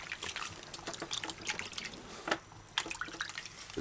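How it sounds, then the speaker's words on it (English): Tap water runs and splashes steadily over vegetables being rinsed under a kitchen faucet, with a continuous trickling wash broken by brief louder splashes as the produce is moved, close and fairly loud. "It's best if you do this part on the running water."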